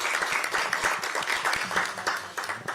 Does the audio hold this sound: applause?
yes